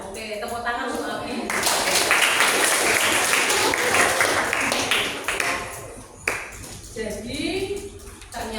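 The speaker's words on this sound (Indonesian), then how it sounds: "tepuk tangan untuk Abi" A seventh-grade class applauds a student, a loud burst of mixed clapping lasting several seconds, with a teacher's voice before and after it.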